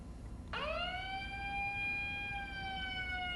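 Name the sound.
siren from an emergency alert device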